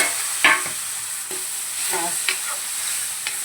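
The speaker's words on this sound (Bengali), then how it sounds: "এখানে যে লঙ্কা গুঁড়ো আর হলুদ আর নুনটা আমি দিয়েছিলাম সেটা আমি জল দিয়ে এখানে গুলো দিয়ে দিলাম" Onions fry in a pan with a watery paste of chili powder, turmeric and salt, giving a soft steady sizzle with a few brief scraping stirs.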